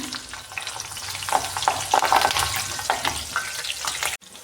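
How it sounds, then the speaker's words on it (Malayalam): Dried red chillies and slit green chillies fry in hot oil, a lively close sizzle with bubbling crackles and a few light stirring clicks, ending abruptly. "ഈ ചൂടായി കിടക്കുന്ന എണ്ണയിലേക്ക് ഞാൻ ഇനി ഒരു രണ്ട് കഷ്ണം വറ്റൽ മുളക് പച്ചമുളക് കീറി ചെയ്തിട്ട് കൊടുക്കുകയാണ്"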